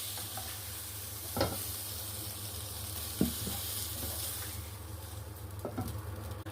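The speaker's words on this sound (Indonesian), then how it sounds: "Pastikan untuk terus mengaduk seperti ini ya teman-teman, karena saya menggunakan api besar biar nggak gosong." Beef stir-fries over high heat in a wok, with a continuous loud sizzle and occasional scraping and clanking strokes of a stirring spatula.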